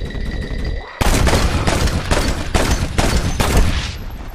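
Rapid gunfire in the Western video game Red Dead Redemption, a dense volley of loud, sharp shots bursting in after a quiet second and repeating in quick irregular bursts.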